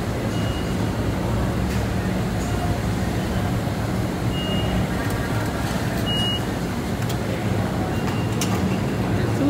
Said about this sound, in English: he got us going on the train